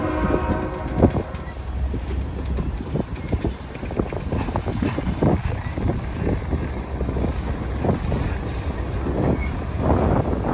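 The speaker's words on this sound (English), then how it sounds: "There you go, two trains passing right there." Two trains pass at a railway crossing, a steady loud rumble of rolling wagons and rail noise filling the whole stretch, with wind buffeting the microphone throughout.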